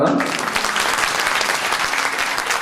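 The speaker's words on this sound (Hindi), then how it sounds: "और ताली बजा लो एक बार" A crowd claps loudly and steadily, dense applause filling the room without pause for a couple of seconds.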